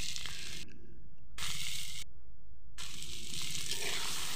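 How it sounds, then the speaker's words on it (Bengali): Boiled potatoes sizzling in oil with ground spice paste, salt and turmeric for a rui fish curry, a steady broadband hiss with two short silent gaps, close and fairly loud, no talk. "বাটা মশলাগুলো দিয়ে আমি এবার কষিয়ে নেব।"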